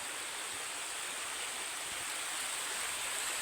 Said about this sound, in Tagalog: Ayan po yung sapa ng Hitibak.